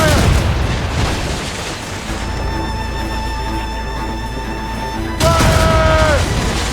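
Ship cannons fire a volley in the naval combat of Assassin's Creed Rogue: loud, rumbling booms and blasts up front, then a sustained low roar with whistling tones, and a fresh burst of heavy cannon fire near the end.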